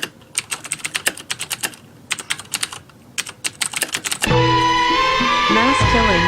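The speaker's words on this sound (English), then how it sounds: "The keyboard hammerer." Someone hammers loudly on a computer keyboard in an office, with rapid, hard, uneven clacks in quick bursts for about four seconds before music abruptly takes over.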